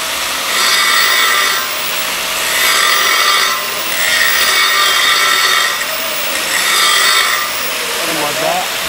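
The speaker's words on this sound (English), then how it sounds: "Grind that tack out." Angle grinder working over a MIG weld tack on a beveled steel joint, a loud, steady abrasive whine that swells and eases in several passes with brief gaps, heard close with a little talk underneath.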